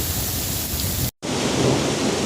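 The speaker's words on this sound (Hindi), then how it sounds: "वहाँ से गरज बरस के इसने फिर यहाँ हमारे इलाके का रुख किया है" Heavy thunderstorm rain pours steadily and loudly with a deep rumble of thunder underneath, briefly cut by a short silent gap before the downpour resumes.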